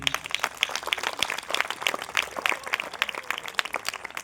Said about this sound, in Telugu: చెప్పండి అన్నవాళ్ళు చప్పట్లు కొట్టండి